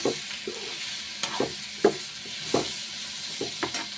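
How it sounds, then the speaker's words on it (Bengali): Kohlrabi and potato frying with bous fish in a pan give a soft background sizzle, punctuated by a regular series of distinct spatula knocks and scrapes as the mixture is stirred. "দেখতে পাচ্ছে সবজিগুলো কি সুন্দরভাবে ফ্রাই হয়ে গেছে"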